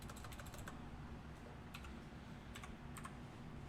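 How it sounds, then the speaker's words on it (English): Rapid clicking of keys on a mechanical computer keyboard, steady typing in short bursts over a constant background hum. "Now I know that keyboard is probably kind of loud."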